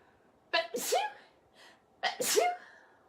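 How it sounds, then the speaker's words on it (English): Two loud, close human sneezes, each with a sharp intake before the burst, separated by a short pause. "Oh, I'm gonna sneeze."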